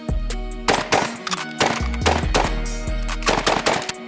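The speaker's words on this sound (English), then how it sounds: "Three shots." Competition shooting in a fast 100-shot run, with sharp gunshots firing in quick bursts, loud and close, broken by brief gaps between strings of shots.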